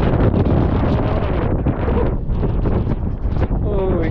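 Strong gusting wind buffets the microphone outdoors among trees, a loud continuous roar with rustling branches that fills the whole stretch.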